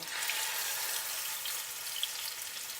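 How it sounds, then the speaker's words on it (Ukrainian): Skinless mititei sausages laid in a single row in a frying pan sizzle with a steady, even crackle that stays quiet and close, with no talking. "Обжарюю їх до золотистої скоринки з двох сторон."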